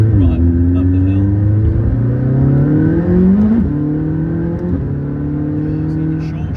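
McLaren 600LT engine accelerating hard uphill with short shifting, close and loud, its rising harmonic whine climbing in pitch and dropping sharply at each quick upshift, heard twice in a row.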